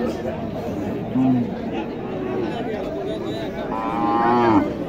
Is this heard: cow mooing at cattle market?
yes